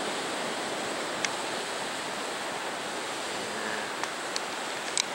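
Ocean waves at Glen Eden Beach form a steady, even wash of surf that sounds broad and slightly distant, with a few faint clicks on top and no voices.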